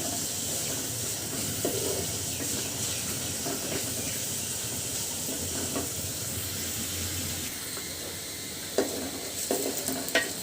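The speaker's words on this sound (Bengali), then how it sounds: "পেঁয়াজটা কিন্তু খুব সুন্দর করে ভাজি করা হয়ে গেছে।" Onions frying in a pan for a spicy tangra fish curry with ripe tomatoes give a steady broadband sizzle with occasional stirring scrapes, continuous and fairly close throughout.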